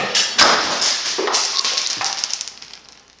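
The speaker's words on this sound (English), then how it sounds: "There goes my air gun." A pneumatic air gun in a tire shop, used while changing tires by hand, gives a loud burst of air and tapping thuds, then a run of quick rattling taps that fades toward the end.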